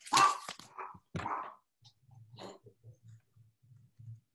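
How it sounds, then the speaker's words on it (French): A dog gives a few sharp yips and barks up close, followed by a series of soft, rhythmic low huffs and whimpers. "Tu as entendu le chien japper?"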